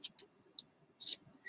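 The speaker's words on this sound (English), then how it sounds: "I just trimmed a little bit of the ends off" Scissors snip yarn ends after crocheting a jellyfish amigurumi, giving a few quiet, crisp clicks spaced irregularly across a short moment, with nothing else audible.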